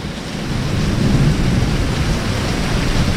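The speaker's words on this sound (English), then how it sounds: "I think you can hear the lightning and thunder" Thunder rumbles low and steady around a Ford Focus parked out on a country road in a storm with hail, the heavy roar filling the whole stretch with no voices.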